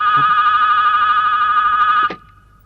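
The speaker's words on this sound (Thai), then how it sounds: "โทรศัพท์เธอจ้ะ" A telephone rings loudly with a steady electronic warbling tone, then cuts off abruptly near the end, leaving quiet background.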